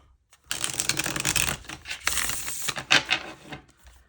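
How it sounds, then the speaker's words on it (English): Tarot cards being shuffled up close, a dense papery riffle with rapid flutters and a few short bursts, no talking. "I'm just going to shuffle the deck the other way for a minute."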